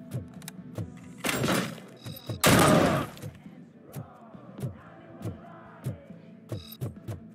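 Sharp gunshots in the video game Robocop Rogue City, a string of spaced single cracks with two louder, longer bursts near the start, heard alone without talk.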